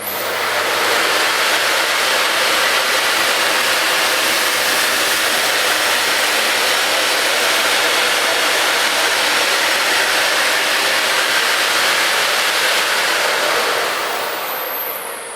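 A Miele S164 Quickstep stick vacuum running on its highest speed: a steady, loud, continuous whooshing hum that holds constant from start to finish, then tails off slightly at the end.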